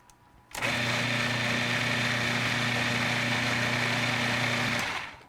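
A blender with its lid on whirs steadily through a lemony sauce paste for a Lebanese shawarma dish, its motor humming loud and constant for several seconds before cutting off, with no talking.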